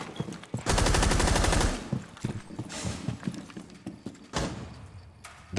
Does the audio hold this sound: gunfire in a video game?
yes